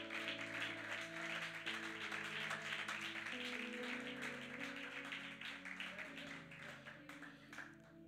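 A church congregation applauds during worship, faint rhythmic clapping blended with sustained music and singing that carries on throughout.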